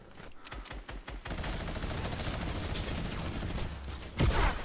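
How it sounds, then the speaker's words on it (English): Gunfire in the video game Fortnite, a few sharp separate shots followed by a dense sustained volley of rapid fire and a louder burst near the end, close and loud with no voices over it. "He was shooting me."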